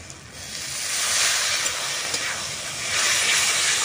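Water poured into hot oil and spice paste in a pan sets off a loud, continuous sizzling hiss that swells and eases over a few seconds, close up and with no talking.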